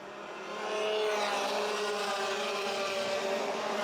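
Race cars in a karting heat at Campillos run flat out down the back straight toward a 180-degree hairpin, a loud sustained engine drone that swells early then holds steady, with no voices.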